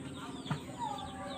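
Brief chicken clucks close by, a short cackle rising over a steady farmyard background hum.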